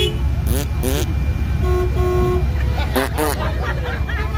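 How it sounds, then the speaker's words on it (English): A car horn toots in short blasts on a busy cruising strip during a Pigeon Forge rod run on Saturday night, with steady traffic rumble, crowd chatter and voices around it. "Oh, it works. Your horn works,"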